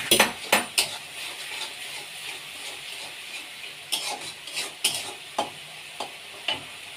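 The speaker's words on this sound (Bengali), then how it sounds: "এটা মশলাটা একটুখানি ভাজা হোক।" Spice paste of garlic, tomato, coriander leaves and salt fries in a pan over raised heat, a soft continuous sizzle broken by repeated sharp scrapes and clinks of a spoon stirring against the metal.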